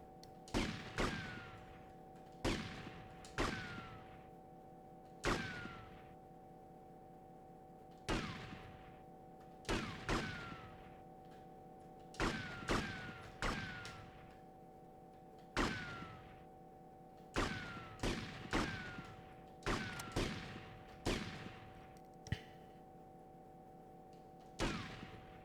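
Repeated gunshots from GTA Vice City on PS2, sharp single and double bursts spaced irregularly over a steady low game hum, loud and close with no talking.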